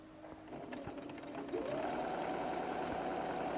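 A sewing machine stitching fabric for a teddy bear or stuffed animal, its steady mechanical hum and rapid needle rhythm building and running continuously at moderate volume.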